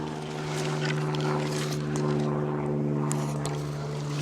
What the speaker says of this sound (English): Airplane that looks like it has a camera on the wing.